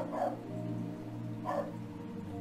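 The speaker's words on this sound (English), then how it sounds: "That's next door's dog, in case you haven't already met him. He's out there barking at the birds." A neighbour's dog barking at birds outdoors: two separate barks about a second apart, faint and distant over a steady low hum.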